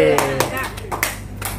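Classroom students clapping the "tepuk salut" pattern, several quick claps in a row mixed with a chanting voice, loud and close.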